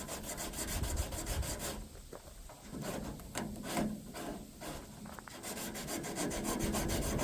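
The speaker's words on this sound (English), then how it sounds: "I have to get my smaller sponge out here to do the lighter sanding and finer details." Sanding sponge worked by hand over the body panels of a Ram 2500 Mega Cab truck, rhythmic close rasping strokes in quick bursts with a short lighter pause midway, no talking.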